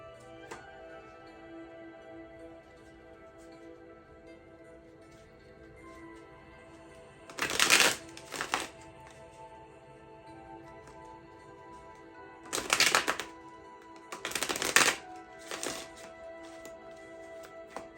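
Tarot cards being drawn and laid down during a reading, with a few brief, crisp shuffling and flicking bursts against a quiet room, spaced apart with near silence between them and no voices.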